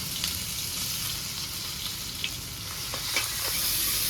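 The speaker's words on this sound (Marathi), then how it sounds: "इथे तेल ठेवले तेल आले आता अद्रक लसूण मिरची पेस्ट टाकू आपण" Ginger, garlic and chili paste sizzles in hot oil for a Maharashtrian Agri-style masala, giving a continuous loud frying hiss with a few soft stirring clicks and no talking.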